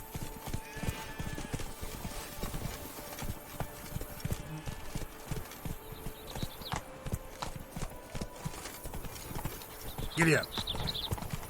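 A ridden horse's hooves clip-clop in a brisk, steady rhythm in The Witcher 3: Blood and Wine, with a whinny near the end and a voice speaking over the hoofbeats.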